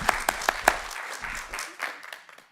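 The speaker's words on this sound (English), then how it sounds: "let's give another round of applause" Scattered applause from an audience at a Black History Month event, a handful of sharp separate claps that thin out and fade, with a voice speaking alongside.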